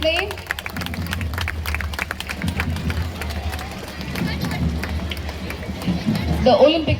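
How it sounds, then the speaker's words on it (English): Crowd applause and clapping fill a school sports meet opening ceremony as the torch lights the cauldron, steady and continuous under a loud public-address announcement, with a brief burst of brighter cheering near the end. "let us welcome this unforgettable moment with a thunderous round of applause"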